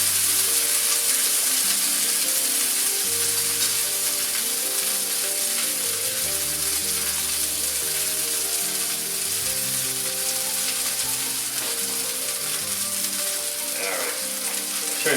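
Chicken fries in a pan on a stovetop, giving a steady, loud, continuous sizzle with crackling spatter that runs throughout without pause.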